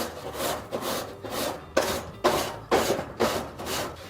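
Scrubbing and buffing a grill clean with a rhythmic series of rough, close scraping strokes, each back-and-forth rub steady and moderately loud, repeating about eight times without speech.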